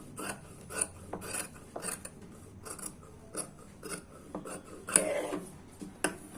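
Scissors cut through blouse fabric close up, a series of short crisp snips and rasping slides repeating irregularly, fairly quiet with no talk.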